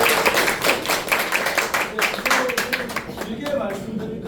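People clap at a regional briefing meeting on solar income villages, a moderately loud crowd of hands patting in a fairly steady rhythm that thins toward the end, with voices faintly mixed in.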